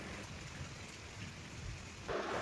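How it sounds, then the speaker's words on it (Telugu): Heavy rain pours down outside a home, a steady hiss that swells louder toward the end, with no voices over it. "ఫుల్ వర్షం పడుతుంది బయట"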